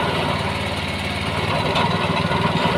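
A small pile driver powered by a 9 hp Honda engine runs steadily nearby, a loud continuous rattling drone with a fast regular pulse and no talk.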